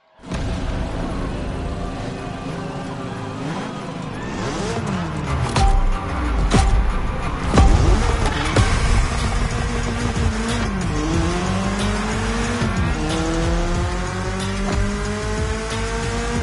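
BMW M3 driven in The Crew Motorfest: a loud engine revs and climbs through gears, with tire squeals and shifts, and steady acceleration close up, no talking.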